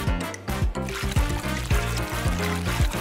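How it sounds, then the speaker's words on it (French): Water is poured to fill a container for a toy-making mix, with gurgling trickles and a series of short glugging pulses, close and moderately loud. "Il me faut juste un peu d'eau. Faisons le plein."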